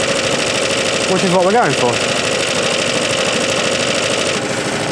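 A Suffolk Super Punch mower engine runs steadily throughout, with a brief rise and fall in revs as the clutch engages and then lets go; someone talks briefly over the engine.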